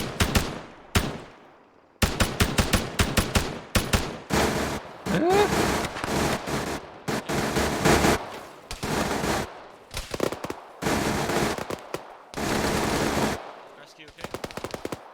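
Sustained bursts of automatic gunfire being shot into a bush in a video game, loud and close, with short pauses between volleys and a voice talking over parts of it.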